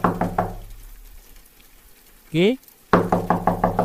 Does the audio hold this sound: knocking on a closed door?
yes